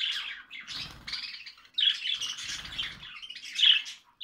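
Sparrows chirp and squawk in repeated bursts up close, with soft low fluttering between calls and no voices.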